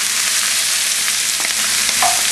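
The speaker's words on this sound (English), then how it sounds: "So now we're going to saute some onions" Onions sautéing in gribenes fat for kasha, a loud, dense, unbroken sizzle close up with faint stirring movements and no talk.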